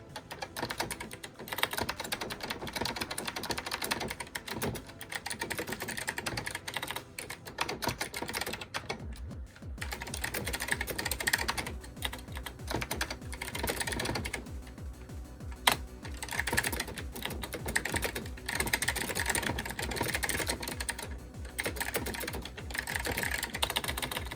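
Fast, continuous typing on a computer keyboard, used to drive an IBM mainframe session, produces dense, close key clatter with short pauses and a few heavier keystrokes, and no talk over it.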